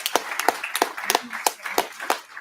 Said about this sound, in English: this is a round of applause for that.